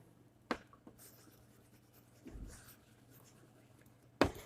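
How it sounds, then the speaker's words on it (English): Handwriting during a Class 3 English lesson on helping verbs gives faint, quiet scratching, punctuated by a few sharp taps of the pen, one near the start and one at the end. "Sorry, let me write here."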